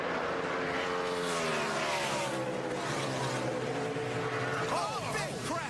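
NASCAR stock cars roar loudly in a continuous engine drone that shifts pitch as they pass, with a crash unfolding amid the racket and a commentator's voice running over it.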